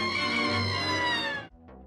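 A screeching creature cry of the Devil Bat from the 1940 horror film The Devil Bat: a sustained, shrill, warbling tone that holds for over a second, stops abruptly, then gives a brief fainter chirp.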